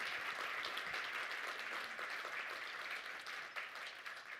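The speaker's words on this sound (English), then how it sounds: "Let's give Dr. Leon a big round of applause." Audience applause for a speaker at a talk on cancer and nutrition, a dense, even wash of clapping from a large crowd that holds steady and then thins slightly toward the end.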